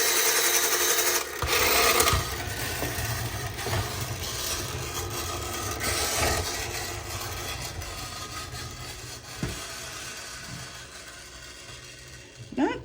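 A pull-string space tank toy runs with a steady whirring, buzzing motor drone, loud and close, fading slightly toward the end, with a few clicks and bumps over it.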